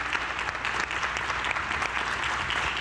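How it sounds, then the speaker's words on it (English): Steady applause from a panel-discussion audience at an executive event, a dense wash of many hands clapping continuously and fairly loudly for about three seconds with no talk. "So I really want to give you a round of applause to that,"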